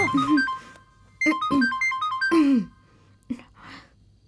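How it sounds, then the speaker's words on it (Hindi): A melodic electronic phone ringtone plays in several bursts of quick tonal notes, with a short gap between phrases, fairly close and clear. "अरे दीदी, कॉल आ गया।"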